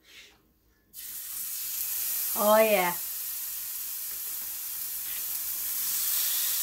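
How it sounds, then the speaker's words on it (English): Food drops into a hot, smoking, oiled pan and sets off a sudden, steady, close-up sizzle that continues without a break. A voice briefly exclaims over the sizzle. "You guys gotta hear the sizzle"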